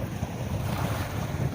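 Sea and wind at a beach: gusty wind buffeting the microphone over a low, steady rumble of waves, continuous and close, with no voices.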